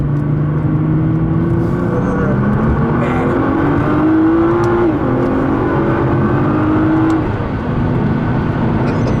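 A 2015 Nissan R35 GT-R accelerates hard in second gear, engine note climbing steadily in pitch, dipping briefly at a shift point, then rising again, loud and close from inside the cabin with the air conditioning running.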